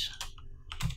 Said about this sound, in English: Let's try typing this out properly.